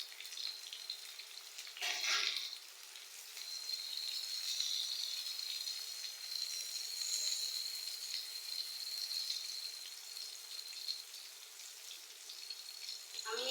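Chopped onion, tomato and a handful of green chillies frying in a pan for an Ilish fish and taro stolon curry, a steady close sizzle throughout with a brief louder crackle as ingredients hit the oil.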